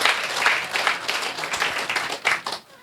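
A small group claps in a burst of applause at a diaspora women's community gathering before Christmas, uneven and lively, fading out after a few seconds.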